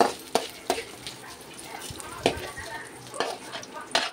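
Finely chopped large onion sautéing in a little oil in a kadai: a soft, low sizzle broken by scattered spoon scrapes and clinks against the pan, close and moderately quiet, no voices.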